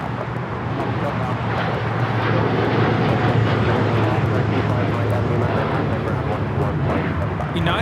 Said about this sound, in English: United 198 taking off to Shanghai on the 787-9 Dreamliner.